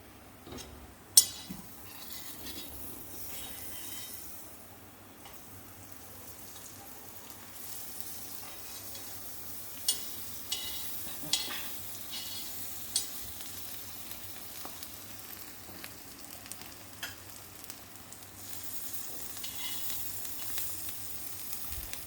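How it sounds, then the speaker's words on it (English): Paratha fries in butter in a pan over a medium flame, giving a soft, steady sizzle with occasional light clinks of a utensil against the pan. "Again keep on medium flame and put butter."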